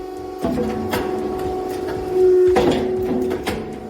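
Shoe upper head-cutting press running in a factory, with a steady machine hum and sharp mechanical thuds from its cutting strokes, one heavier clunk mid-way, close and loud.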